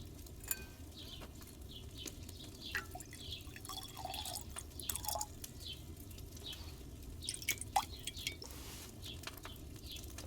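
Potion liquid drips and trickles into a bottle in an alchemy crafting game, with soft droplets and small splashy ticks spread over a steady low ambient bed.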